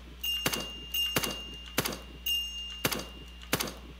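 Sniper shots in the PC light-gun game BangBang PewPew come as six sharp, evenly spaced cracks, each followed by a brief thud, loud and close over a faint steady tone.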